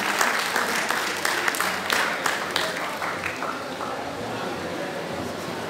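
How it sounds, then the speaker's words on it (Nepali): Audience applause at a Jyapu Samaj book programme, a dense, steady crackle of many hands clapping that is fairly loud at first and eases slightly toward the end, with voices talking underneath. "कृपया ताली बजाएर उहाँको हौसला बढाइदिनु होला"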